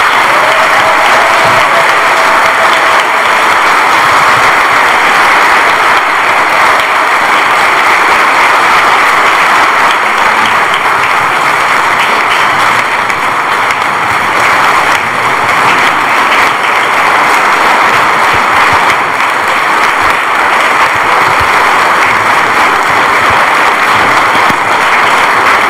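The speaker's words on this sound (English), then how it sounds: "And I think we could give them another very, very big round of applause." Loud, sustained applause from a church congregation at Grace Lutheran, celebrating a pastor's 25-plus years, fills the space as an unbroken roar of clapping with no pauses.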